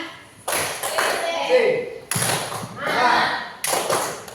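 A group of teachers performing the rhythmic tepuk semangat spirit clap, bursts of loud, close clapping and slapping in three sections separated by short pauses, with voices mixed in.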